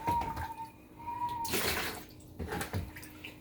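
Standing water sloshes and splashes as it is scooped out of a clogged dishwasher that won't drain, a few wet scoops and drips in a quiet room.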